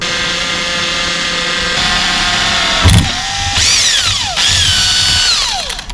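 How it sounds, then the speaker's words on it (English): Power drill boring holes into a Mazda Miata car wheel, heard up close: a loud, sustained motor whine that sags in pitch as the bit bites into the metal, then spins back up, across several passes. "Drilling holes in my wheel."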